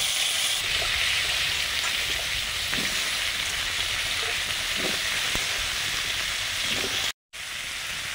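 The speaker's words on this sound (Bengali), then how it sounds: "পুঁই ডাঁটাগুলো এখন ভেজে নিচ্ছি" Malabar spinach stems frying in hot oil in a home kitchen, a loud steady broadband sizzle running throughout with faint crackles and a brief cut near the end.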